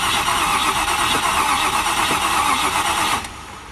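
A Range Rover Classic LSE soft dash engine cranks continuously with a whirring, rhythmic churn that never catches, then cuts off abruptly near the end.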